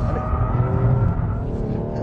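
Performance hatchback from a 2014 Audi S3, BMW M135i and Mercedes A-Class AMG comparison sliding into a track corner, with a loud continuous engine roar and tire noise, close and steady.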